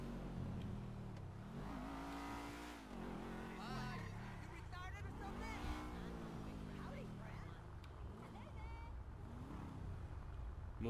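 The Dewbauchee Seven-70 sports car drives in GTA 5, its engine rising and falling through repeated revving sweeps and gear changes, with a person talking over the game sound throughout.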